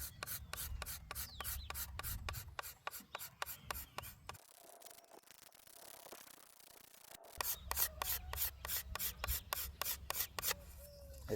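A sharpened scraper drawn over a wooden longbow of 11th-century style makes fast, rhythmic rasping strokes, close and crisp, pausing for a few seconds midway before the strokes resume.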